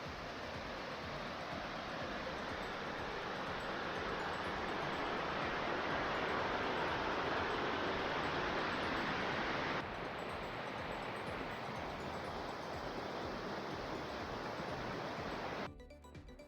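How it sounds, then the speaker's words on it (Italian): A steady, dense rush of a mountain stream, loud and unbroken, pouring over rocks nearby. "Guardate quanta bell'acqua che scorre."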